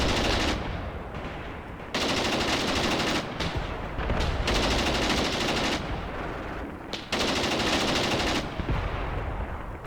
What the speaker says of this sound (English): Good spot to have an MG set up.